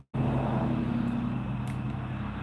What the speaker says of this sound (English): Farm truck.